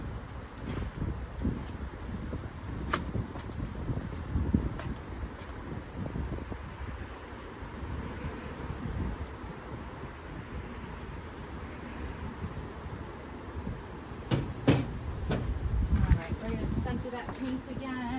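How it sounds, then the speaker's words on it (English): Gusty wind blows outdoors around an open-air paint-pouring session, rumbling steadily into the microphone with stronger low buffeting gusts late on, and a person talks intermittently over it. "It's a wee bit windy today."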